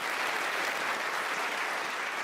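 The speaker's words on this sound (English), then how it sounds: "Round of applause for Alice." Studio audience in a television show breaks into steady, dense applause, a continuous wash of clapping that holds even and loud for the whole span with no voices over it.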